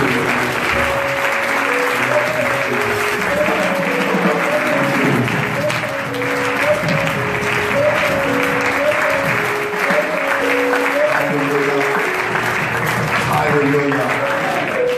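During a French-speaking church service on a day of fasting and prayer, the congregation claps as an offering of praise, a sustained, thick round of applause over steady music, with voices mixed in.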